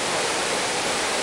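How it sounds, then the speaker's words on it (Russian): The Karanas waterfall at Edessa roars as water crashes down a 70-metre sheer cliff, a dense, steady, loud rush with no voices. "Водопад Каранас – это 70-метровый водяной столб, который обрушивается с отвесной скалы"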